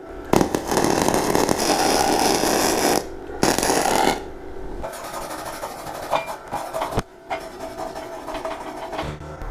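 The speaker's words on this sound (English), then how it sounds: "you have to clean off the spatter and slag so you can weld continuously" Chipping and wire-brushing spatter and slag off a flux core weld on steel, a loud scraping, rattling stretch broken by short pauses, close and steady with no talk.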